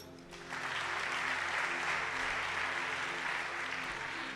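A church congregation applauds for Jesus during a worship service, a steady, dense wash of many hands clapping that swells in after a brief lull and keeps going without voices on top.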